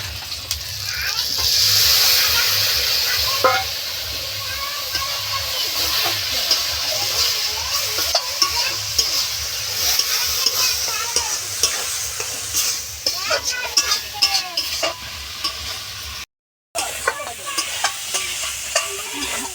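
Spice masala with turmeric is sautéed and stirred in a pot, a loud continuous sizzle layered with frequent spatula scrapes and clatter close up, with a brief dropout near the end.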